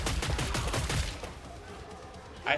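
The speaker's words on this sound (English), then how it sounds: "I don't like the SMG of this class though, it's so slow. The fire rate." Automatic submachine gun fire in the shooter game Killing Floor 3, loud rapid bursts for the first second or so, then fading into quieter game ambience with a sharp burst near the end.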